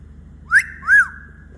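Charlie the talking parrot gives two clear, close whistles, each a short rising-and-falling note followed by a lingering tone over a faint low hum.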